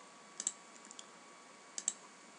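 Computer mouse clicking in two quick double-click bursts, sharp and close, separated by about a second and a half of near silence with a faint steady hum.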